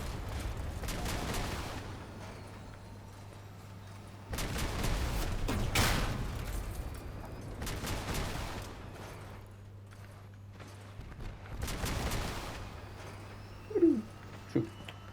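Bursts of weapon fire in the vehicle combat game Crossout arrive in several loud clusters of rapid shots over a steady low engine hum, with short quieter gaps between volleys and a few sharp isolated shots near the end.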